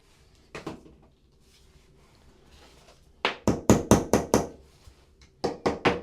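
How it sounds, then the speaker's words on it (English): A hammer taps a shim under an already bolted toilet during an install, first two soft knocks, then a quick run of five sharp taps and three more, close and loud. "tap this shim in to where all of the slack is gone"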